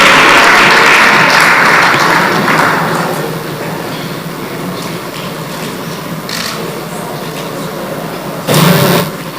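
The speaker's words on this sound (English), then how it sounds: "Give her a round of applause" An audience at a speech event in Ghana applauds a musician celebrating ten years in the music industry, a dense wash of clapping that starts loud, then thins and fades to a softer steady patter, with a brief louder burst near the end.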